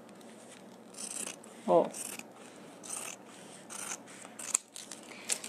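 Scissors cutting through material for a handmade wallet, heard as a few short rasping snips spread through the clip, with brief talk in between.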